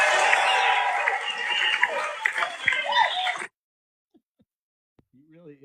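A panel discussion audience claps and cheers loudly for about three seconds, then the applause cuts off abruptly into near silence, followed by a brief voice at the end.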